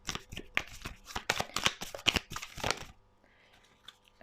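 A tarot deck is shuffled by hand in a rapid run of crisp, close riffling flicks and slaps that stops abruptly near the end, leaving a quiet hum.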